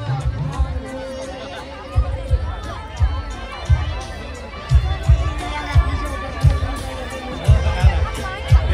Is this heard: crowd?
yes